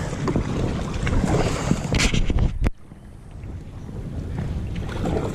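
Stand-up paddle board being paddled on Lake Hickory, North Carolina, with close watery splashing strokes and wind buffeting across the microphone, one sharp knock partway through, no talking.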